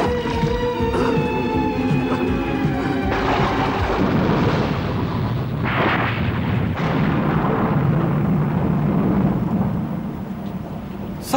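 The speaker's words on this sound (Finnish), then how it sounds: "Salama iski johonkin." Thunder from a lightning strike in an animated film: a loud, sustained rolling rumble lasting several seconds, with crackling bursts and a booming peak, alone and with no voices.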